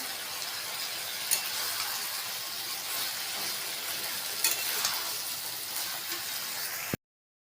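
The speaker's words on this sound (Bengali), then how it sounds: "পোস্তটা ফুটছে।" Coconut and poppy seed paste bubbles and sizzles in a pan as a steady, close hiss with a few faint taps, then cuts off abruptly near the end.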